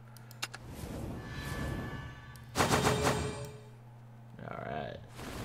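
A burst sound effect in the Shadowverse card game's pack opening, a loud broad crash about midway through, set over steady game background music with a brief chiming flourish near the end.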